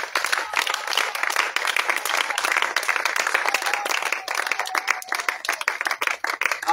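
A church congregation applauds the Lord at an evening worship service in Angré, sustained dense clapping from many hands filling the room steadily throughout, with a faint voice underneath.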